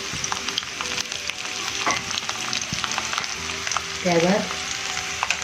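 Finely chopped garlic fries over low heat in a pan, a steady close sizzle and crackle throughout with a few utensil clinks and a brief stir, while a voice speaks a word at the start.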